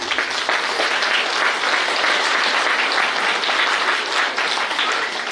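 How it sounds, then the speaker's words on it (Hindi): At a New Year celebration in a Bihar spiritual retreat centre, the gathered audience applauds in a steady, fairly loud wash of clapping that holds evenly throughout. "आप सबके तालियों के साथ"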